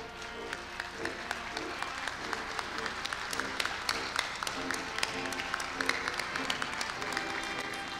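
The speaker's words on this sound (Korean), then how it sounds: "자리에서 일어나셔서 큰 박수와 함께 환영해 주시면" Applause fills a university hall as the new president of Korea University enters his inauguration ceremony, a steady mass of clapping from a standing audience with a voice heard beneath it.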